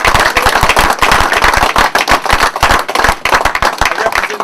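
An audience at a teen open mic and talent showcase claps hands in loud, close, sharp claps that come in quick irregular bursts with brief gaps between them.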